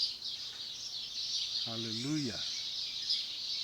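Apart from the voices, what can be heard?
birds singing at the start of a new day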